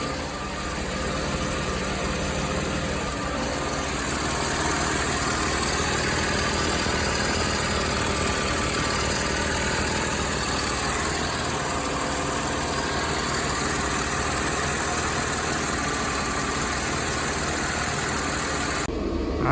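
A Mercedes-Benz W124 engine idles steadily for the whole stretch while warming up after thermostat and power steering filter work. It gives a continuous, even drone with a faint vibration and no voices.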